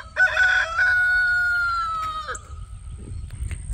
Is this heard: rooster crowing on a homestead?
yes